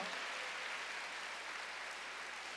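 A church congregation at a Wednesday worship service applauding, steady dense clapping from many hands throughout.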